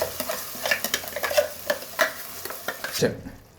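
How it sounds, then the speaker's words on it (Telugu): Ground masala paste frying in oil with onions in a pan for mutton curry, stirred in quick scraping strokes over a steady sizzle, close and without speech, then cutting off abruptly near the end. "ముందుగా మిక్సీకి వేసుకున్న మసాలా అంతా వేసుకున్నామండి."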